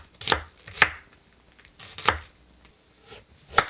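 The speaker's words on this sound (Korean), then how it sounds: "양파 반 개를 얇게 썰어주세요." A knife slices thinly through half an onion on a cutting board, with four sharp, close chopping thuds at uneven intervals and quiet pauses between them, with no talking.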